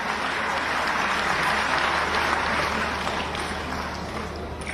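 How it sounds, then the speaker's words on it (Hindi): An audience at a government housing-scheme fund distribution event in Madhya Pradesh claps for a garland welcome, a dense, steady roar of applause that stays loud throughout and fades slightly at the end. "आप लोग तालियां जोर से बजाएं, जितनी बड़ी माला है उतनी जोरदार ताली होनी चाहिए।"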